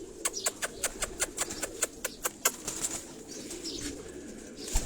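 Pigeons on a Karachi rooftop give a quick run of about fifteen sharp, evenly spaced clicks or claps, likely wingbeats, over a low murmur with faint soft calls, fairly close.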